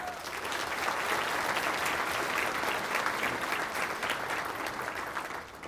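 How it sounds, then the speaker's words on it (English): Sustained applause from the audience at a chamber of commerce centennial gala, a dense even patter of many hands clapping from start to finish before fading slightly at the close. "Round of applause, please."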